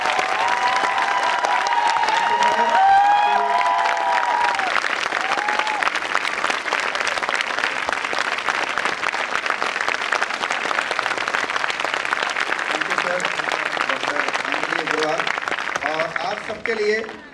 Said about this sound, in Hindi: जब तक मैं अपने स्थान पे ना पहुंच जाऊं तालियां बजाते रहिए